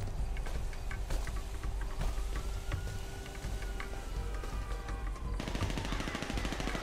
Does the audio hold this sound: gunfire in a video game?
yes